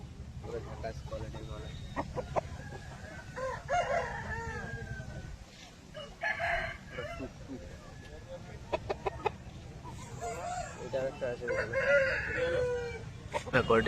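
A 15-month-old Aseel rooster weighing about 4.5 kg clucks and crows in bursts while other fowl sound nearby, mixed with someone talking and background chatter.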